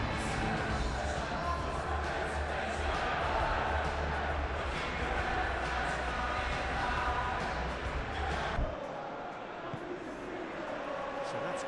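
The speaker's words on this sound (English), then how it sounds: "A capacity crowd here." A capacity crowd fills a football stadium for Manchester United against Bournemouth in the Premier League, a steady dense roar of many voices heard throughout. A commentator talks over it.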